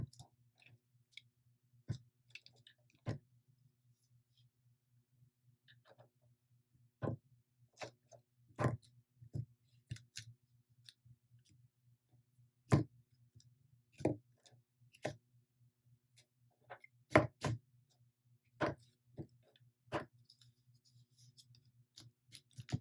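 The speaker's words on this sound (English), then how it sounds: "if you enjoy the pen clicking" Monami twin color brush marker pens click and tap sharply, one at a time in an irregular rhythm, close up and alone over a faint low hum in a quiet room.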